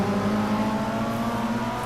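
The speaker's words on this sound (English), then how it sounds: "3 cars come round that hairpin" Race cars in a racing video game rev around a hairpin, giving a steady, buzzing engine drone with sustained tonal whine, moderately loud and uninterrupted.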